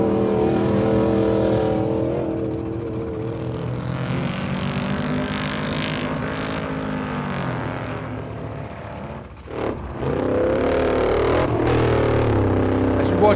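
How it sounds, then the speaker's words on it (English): Off-road race car on the King of the Hammers qualifying course, its engine droning loudly and steadily with shifting pitch as it passes, briefly dipping before surging again, while a commentator talks over it. "Jake Yeoman is heading towards the line, and very shortly we'll see the time for Jake Yeoman as he crosses the finish."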